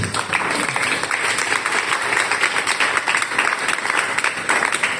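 Church congregation applauding during a Sunday worship service, a dense steady roll of clapping that stays loud and even for the whole stretch, with no speech over it.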